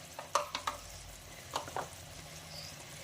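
Thick amla lunji cooking on a low flame, stirred with coriander-cumin powder, a few soft scraping spoon strokes against the pan over a faint steady sizzle.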